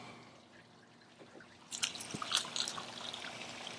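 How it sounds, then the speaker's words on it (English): Water drains out of an RV black tank, starting as a low trickle and turning into louder splashing and dripping partway through, close to the listener. "We're letting the water come out of our black tank,"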